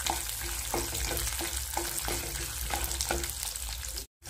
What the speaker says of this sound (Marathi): शेंगदाणे, तीळ, काजू आणि हिरवी मिरची छान परतून घ्यायचं